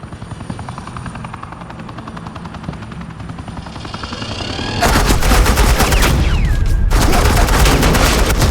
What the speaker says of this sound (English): suppressing fire.